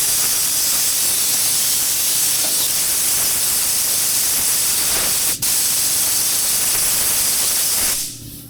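An anti-static gun hisses steadily as a car panel is prepped just before spraying GM black UPOL factory-match paint; a broad continuous rush runs unbroken for about eight seconds, with one brief sharp blip midway, then it cuts off.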